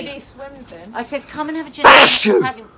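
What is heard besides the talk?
sneeze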